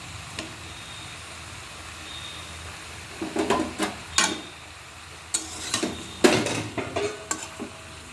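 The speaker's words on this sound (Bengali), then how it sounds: "এবার সবজিগুলো কড়াইতে দিলাম" Vegetables for a vegetarian charchari cook in a kadai with a little salt, a spatula scraping and clattering against the pan in short bursts over a faint, steady sizzle, with no talking.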